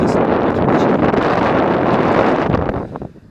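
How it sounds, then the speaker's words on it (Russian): Strong headwind buffeting a cyclist riding over hilly terrain in the Urals near Verkhny Ufaley, a loud continuous roar on the microphone that holds steady for about three seconds, then eases near the end. "Ветер дует прямо в лицо."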